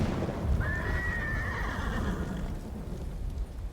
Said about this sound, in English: It's interesting that this horse is unsettled with me being on it